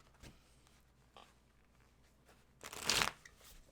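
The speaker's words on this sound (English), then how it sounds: "No, I did shuffle." A deck of tarot cards is shuffled close by: a few soft flicks and rustles, then one louder riffling burst near the end, with no talking.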